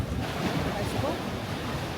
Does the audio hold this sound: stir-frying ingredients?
no